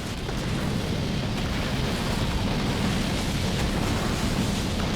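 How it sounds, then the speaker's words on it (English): The Rain of Fire bombardment power in Halo Wars 2 strikes a match, giving a dense, continuous rumbling barrage of overlapping explosions that stays loud and steady throughout, with no talking. "It's not just the Rain of Fire, it's everything together"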